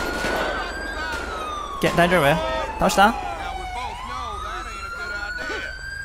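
A wailing ambulance siren in the video game GTA 5 sweeps up and down continuously and loudly, with brief bursts of Japanese speech over it.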